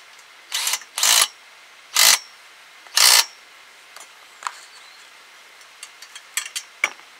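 A power drill driving fasteners while assembling a metal garden arch, four short loud bursts of whirring followed by quieter clicks and taps of parts being handled.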